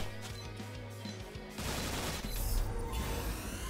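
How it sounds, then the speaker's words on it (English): Sustained machine gun fire from the video game Spellbook Demonslayers, starting sparse and then turning into a dense, loud continuous burst with overlapping crashing impacts in the second half. "We're just going straight machine guns right now."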